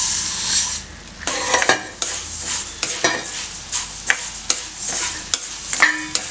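Coriander seeds are dry-roasted in a pan, with repeated scraping stirs of a spoon against metal over a light sizzle, close and fairly loud.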